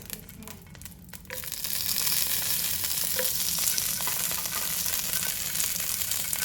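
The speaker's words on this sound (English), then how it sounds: "We're gonna wait until this gets hot, so just a pan, and add some oil on it. I'm going to add your chilies." Dried chilies dropped into hot oil in a pan, with a quiet start that swells into loud, steady crackling and sizzling up close, and no voices.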